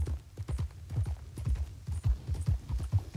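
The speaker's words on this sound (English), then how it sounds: "Why would I need to get off my horse?" Horse hooves clip-clop in Red Dead Redemption 2, a steady rhythmic run of close, fairly loud hoofbeats on firm ground with no talk over them.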